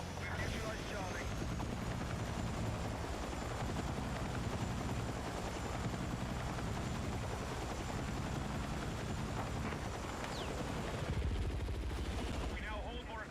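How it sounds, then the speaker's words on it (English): An enemy helicopter in a military shooter game, a steady loud rotor thump filling the whole stretch, mixed with gunfire and voices calling out over it. "Enemy helo!"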